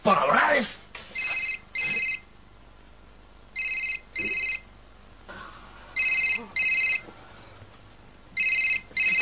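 Telephone ringing in a room in a Spanish-language drama, repeated double-burst rings with pauses, fairly clear, preceded by a brief louder noise and with faint talk in the background.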